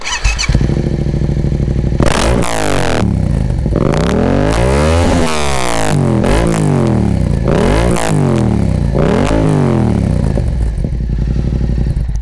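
A loud, raw Akrapovic carbon motorcycle exhaust with the baffle removed revs repeatedly, each blip rising and falling sharply with a harsh, unmuffled roar throughout.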